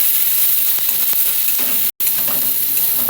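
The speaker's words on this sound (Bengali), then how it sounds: "সিদ্ধ করা মাছটা দিয়ে দিলাম, নেড়ে চেড়ে ভেজে নেবো।" Boiled fish fried in a pan with ginger and garlic sizzles in a loud, steady hiss, with occasional stirring scrapes and one brief cut to silence midway.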